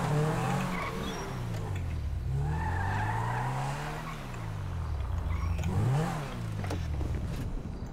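A Volkswagen Beetle (Fusca) launches hard in GTA 5 roleplay, its engine revving up and down through several rising and falling sweeps, with tires skidding and squealing, loud and close.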